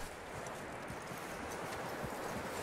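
Hooves of a horse in Red Dead Redemption 2 clop quietly and continuously over a broad background hiss, a low, even, trotting patter with no voices.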